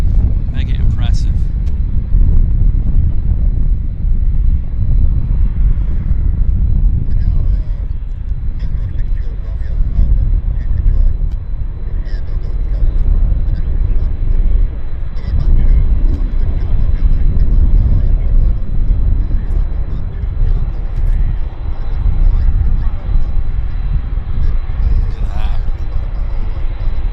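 A Lufthansa airliner at Vancouver Airport gives off a steady, loud low rumble that carries through the whole stretch, roughened by wind buffeting on the microphone, with a voice speaking at points.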